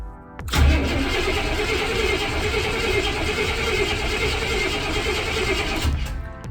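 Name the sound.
car engine cranking, trying to start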